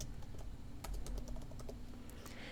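Text is typed on a computer keyboard as a quick run of light key clicks over a steady background hum, close by and without speech.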